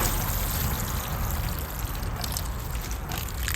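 Water poured onto a potted Crassula plant, a steady close splashing and trickling that continues evenly throughout with no talking.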